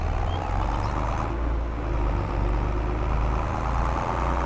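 A Fiat tractor engine in Farm Sim 22, with its clutch or flywheel going bad, gives a steady low idling drone that stays constant throughout.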